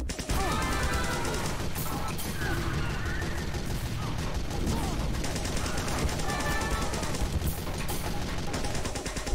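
A syringe gun (needle gun) fires nonstop in a Team Fortress 2 match, a dense, loud rapid stream of sharp shots layered over game effects and constant background noise with no pauses.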